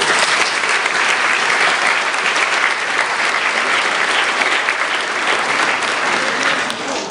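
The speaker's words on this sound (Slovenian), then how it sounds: "mislim, da je prav, da jih nagradimo z velikim aplavzom" Loud, sustained audience applause at a Slovenian stage event, Mavrični vrtiljak 2013, with a dense wash of many hands clapping steadily for the full length and no talk over it.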